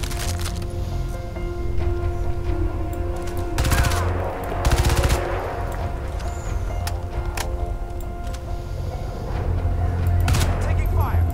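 Bursts of gunfire in the shooter game Crysis 2, loud rapid volleys and sharp cracks in a mission set in a lab, with machine-gun clatter coming in waves over constant battle noise and radio-style voices.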